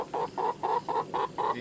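A young hen clucks in a steady, regular series of six soft, evenly spaced clucks, close by over a faint background hum.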